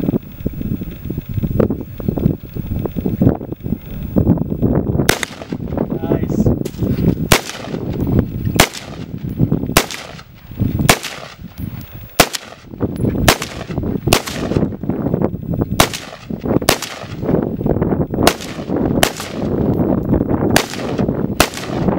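Gunshots fired outdoors at old computer parts, a long series of sharp loud cracks at irregular intervals, around fifteen shots, over a steady background of wind noise.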